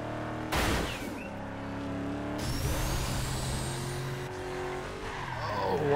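Cars sliding and skidding in Burnout Revenge, with loud engine roar and sustained tire squeal across the whole stretch, rising pitched screeches over a steady rumble.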